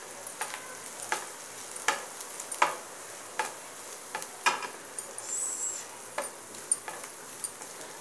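Grated fresh coconut sizzles lightly as it is stirred in a pan of Malvani prawn masala, with soft crackling and scattered clicks of a spoon against the pan.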